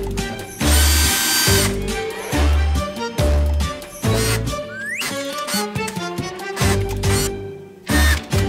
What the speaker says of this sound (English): I have my larger holes drilled.